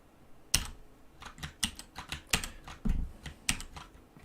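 Rapid clattering of keys on a computer keyboard during app coding work, with irregular bursts of close, crisp clicks and a few heavier thumps, with no talking.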